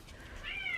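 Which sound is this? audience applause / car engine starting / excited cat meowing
excited cat meowing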